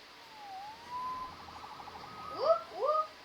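Faint wailing sirens in the distance, with rising and falling tones that sweep up sharply near the end.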